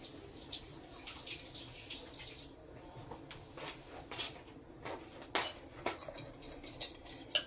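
A fork stirring and clinking against a dish, a quiet run of light metallic scrapes and taps that grows sharper and more frequent toward the end, with faint running water in the background.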